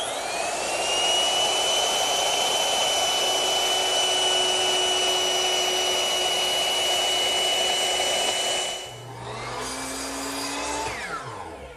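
A power router cuts a decorative chamfer along the edges of wooden end panels for a rustic coffee table, giving a loud, steady high-pitched whine that winds down abruptly near the end as the motor spins to a stop.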